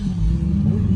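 A Dodge Durango RT with its rear muffler deleted cruises along, giving a steady, deep low rumble of exhaust throughout, loud and close with no talking.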